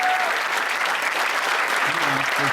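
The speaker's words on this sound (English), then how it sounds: "We'd like to give you a round of applause" An indoor audience gives a round of applause, steady dense clapping throughout, with a voice starting to speak over it near the end.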